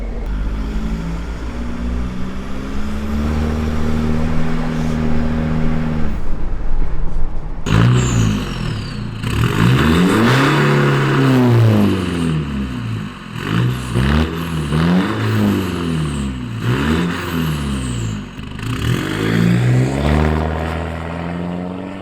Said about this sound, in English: We have a new 3-inch exhaust